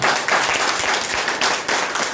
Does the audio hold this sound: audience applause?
yes